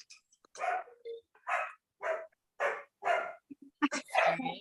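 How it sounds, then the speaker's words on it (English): A dog barks several times in a home during a remote school board meeting, short sharp barks spaced rhythmically and loud near the microphone, with people speaking around them. "You all hear my dog?"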